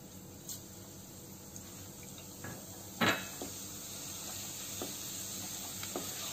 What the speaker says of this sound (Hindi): तेल हमारा गरम था तो हमारे स्पाइसेस और जीरा क्रैक होने लगे हैं